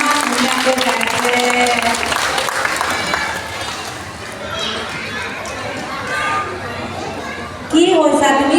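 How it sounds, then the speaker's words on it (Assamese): Children's Day applause at a primary school in Assam after the children sing: a burst of clapping from a crowd with children's voices and chatter around it, then talk, and a second louder burst near the end. "আমি তেওঁৰ কাৰণে আৰু এবাৰ হাত চাপৰি দিম"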